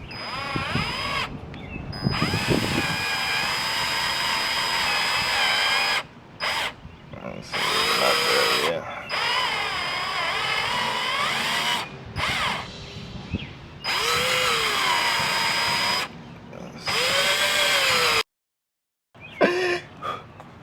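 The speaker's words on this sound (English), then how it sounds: "we want to drill this all the way to 7/8." A power drill grinds loudly in repeated bursts while drilling metal on a Mustang GT, starting and stopping with short pauses between runs, its motor pitch dipping under load.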